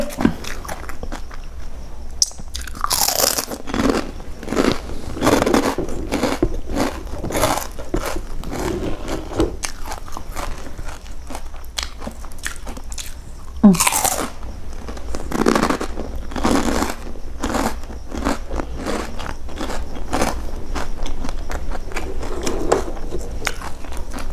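Someone biting and crunching crispy pork cracklings eaten with nam prik num chili dip, repeated close crunches and chewing in irregular bursts with occasional louder bites.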